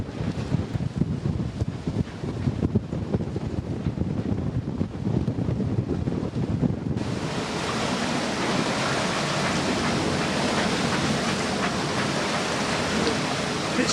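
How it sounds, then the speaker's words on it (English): Gusty wind buffets a sailboat tacking between islands and the mainland, a loud steady roar that swells and thickens about halfway through, with faint water wash beneath. "Hence all this wind."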